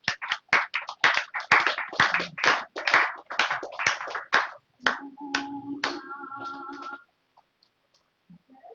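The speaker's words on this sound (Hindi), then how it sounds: "एक जोरदार तालियां होनी चाहिए" Audience clapping at a success celebration event in Prayagraj, steady rhythmic claps for several seconds, then a brief electronic tone and fading, leaving near silence at the end.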